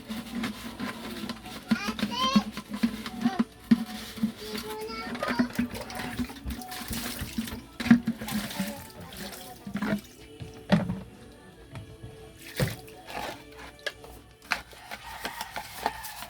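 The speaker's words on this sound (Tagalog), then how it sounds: "Dahil maputik, dahil nga naulanan, so kailangan hugasan." Muddy, rain-soaked things on a farm being washed under running water, splashing and trickling unevenly while people talk over it.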